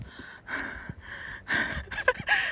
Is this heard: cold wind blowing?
no